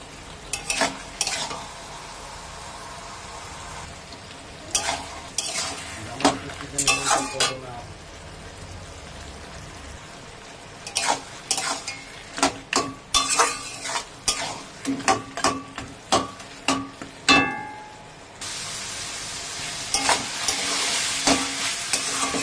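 Rohu fish heads and taro leaves sizzle and fry in a pan, with repeated scraping stirs of a spatula and clinks of cookware, close and intermittent against a soft frying hiss.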